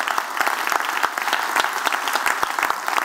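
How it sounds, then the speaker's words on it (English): A room of audience members gives a round of applause for John Edwards, sharp individual claps rattling in a fast, uneven stream that stays fairly close and steady throughout. "let's give John Edwards back in Australia a round of applause"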